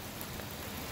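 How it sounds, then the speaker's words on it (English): Hail and rain fall on a campsite as a dense, steady hiss of wide noise that stays close and even throughout, with no voices. "Hail and rain."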